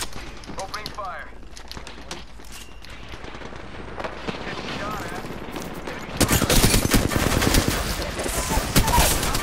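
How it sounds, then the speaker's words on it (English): Automatic weapon fire in the video game Apex Legends: scattered shots at first, then sustained rapid bursts in the second half, loud and dense, mixed with game effects and occasional voices. "Opening fire."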